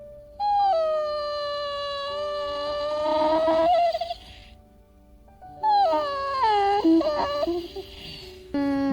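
A female dog gives long, rising and wavering howl-whines in two drawn-out bouts, loud and close, a revving, engine-like vocalizing made to get attention.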